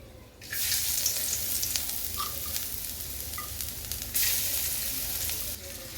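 Chopped garlic frying in oil in a kadai, a steady loud hiss of sizzling that swells after a quiet start and holds for several seconds, with no speech.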